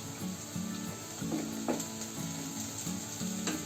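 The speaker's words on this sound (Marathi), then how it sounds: "आता त्याच्यामध्ये ही कढीपत्त्याची पानं टाकते." Curry leaves dropped into hot oil with frying onion and chili, a steady moderate sizzle with crackling bursts and a few scrapes of a stirring spoon against the pan.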